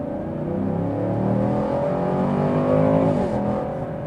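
A 2021 Chevrolet Camaro with the LT1 engine pulls hard under acceleration, a loud steady engine drone with rising and settling tones, heard from inside with no talk.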